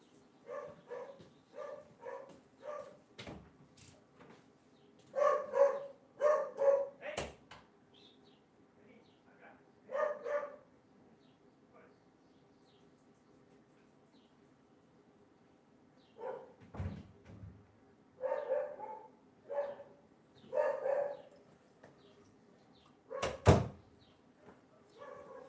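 A dog barks in short bursts at a distance, groups of several barks separated by quiet gaps, fairly faint, with an occasional door knock or thump and a bird chirp in the background.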